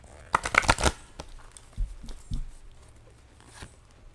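Tarot cards being handled and shuffled during a fortune-telling reading, with a quick burst of papery rustling and flicks near the start, then softer scattered taps fading out.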